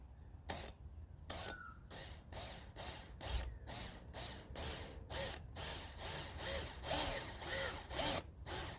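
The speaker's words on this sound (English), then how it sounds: "I've got to drill this twice and then join them together" A power drill cuts a slotted hole into a Toyota Supra hatch for an OEM spoiler fitment, in short repeated bursts with brief pauses between, close and moderately loud with no talking.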